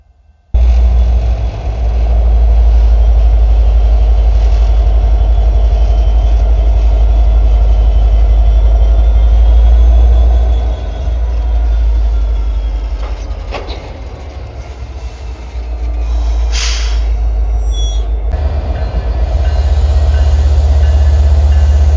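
Two CPKC local locomotives assemble a consist in a small snowy rail yard in Minot, North Dakota, their diesel engines rumbling loud and close, with faint clanks and a brief squeal near the end.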